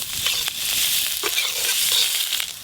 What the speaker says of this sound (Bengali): এই যে মাশরুম আর মশলা একসঙ্গে ভালো করে কষানো হয়ে গেল।